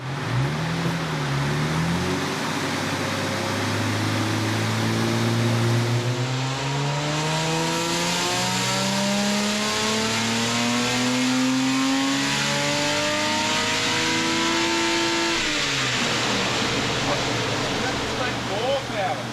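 A car engine tuned on E10 fuel revs hard at full throttle and climbs steadily in pitch for many seconds, loud and close, then drops off sharply.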